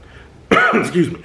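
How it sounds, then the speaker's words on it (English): A single abrupt, voiced cough, loud and close, after a moment of quiet. "shouldn't have coughed because now it just makes me want to keep on coughing"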